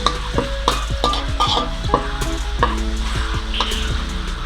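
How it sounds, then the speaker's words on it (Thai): Shrimp paste, shallot, garlic and salt stir-fried in oil, with loud close scraping and clinking of a utensil against the pan in quick irregular strokes over a constant sizzle. "เครื่องก็จะมีกะปิ หอมกระเทียม แล้วก็เกลือนะคะ น้ำมันลงไปผัดค่ะ"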